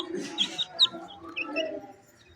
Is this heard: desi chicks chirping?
yes